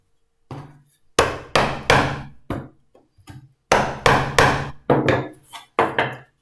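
A mallet strikes a chisel to remove waste wood from a small storage box piece, giving a series of sharp, close wooden knocks in uneven groups of two and three, each with a brief decay.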